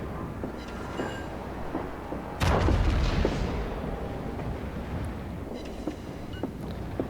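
Secondary battery guns firing on a warship in the World of Warships video game, heard as a loud boom partway through over a constant roar of wind and sea, with faint distant reports around it.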